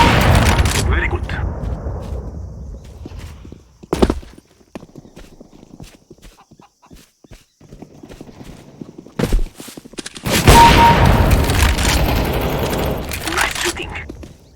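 Gunfire in a CS:GO team deathmatch on the Ancient map, loud bursts and single cracks coming in clusters with quieter footstep-like gaps between them and occasional voice chatter.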